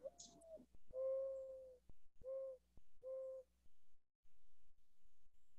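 A dove, of the pigeon family, gives four soft hollow coos, the second drawn out longest, spaced about a second apart and quiet, followed by near silence.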